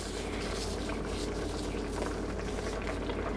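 Plum marinara sauce boiling hard on high heat in a kitchen pot, a dense, continuous bubbling and sputtering with no talk, steady and close throughout.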